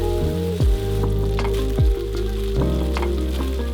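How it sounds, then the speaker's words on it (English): Steady, loud sizzling of chicken stir-frying in a pan with dark soy sauce, ginger and garlic, with a few soft thumps of stirring breaking through the constant crackle. "As the chicken sizzles with dark soy sauce, ginger, and garlic"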